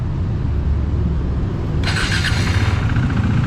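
A low mechanical rumble turns over, then a KTM 390 Duke's single-cylinder engine catches and fires up midway, started with the side stand down and no clutch pulled, running loud and close.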